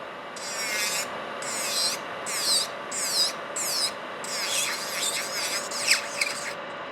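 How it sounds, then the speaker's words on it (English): Electric nail file buffing and filing gel on 3D rose nail art, heard as a series of short high whirring bursts, about nine strokes in quick succession at close range, no talk. "I'm smoothing everything out and I'm filing through it"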